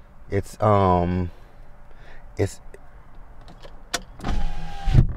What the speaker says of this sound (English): we're gonna have to let this window up because cars are coming